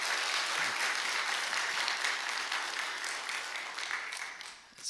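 A church congregation applauds together during a Wednesday service, steady dense clapping that fades slightly toward the end.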